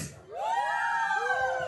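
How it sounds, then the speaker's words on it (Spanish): Men in a show audience let out a rising, drawn-out cheering shout, several voices overlapping in one sustained loud call. "¿Dónde está el grito de todos los hombres?"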